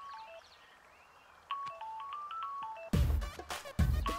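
A mobile phone rings with an incoming call, a short melodic ringtone of bright repeating tones at moderate level, then abruptly cut by two louder bursts of other sound near the end.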